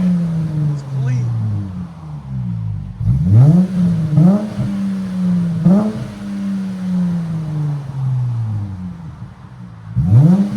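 A 2019 Dodge Challenger GT with a 3.6L V6 and a Netami turbo resonator revving near and loud, with a low idle drone broken by several sharp throttle blips that climb and fall back, the last one near the end.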